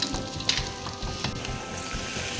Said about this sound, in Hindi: अब हम इसमें चावल डाल लेते हैं।